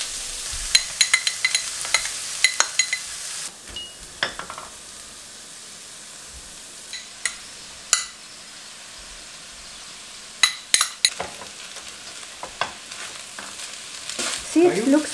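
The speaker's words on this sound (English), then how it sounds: "I will fry the onions and veggies in high heat." Onions and vegetables fry over high heat in a pan, a steady soft sizzle broken by sharp clinks and scrapes of a utensil stirring, busier near the end.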